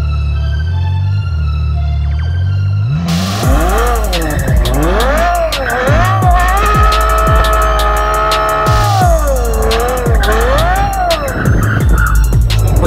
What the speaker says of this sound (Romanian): Hai să facem un derapaj și să filmezi.